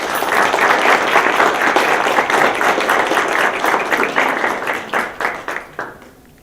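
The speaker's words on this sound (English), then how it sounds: "let's start this morning off with a big round of applause for Mr." A school audience breaks into loud, dense applause at a letter of intent signing for a football player, holding steady before thinning into a few last claps and fading out.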